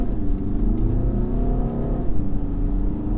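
A 2017 VW Tiguan's 2-litre diesel engine revs steadily, a close, droning whir that climbs and holds under load inside the car, with no talk.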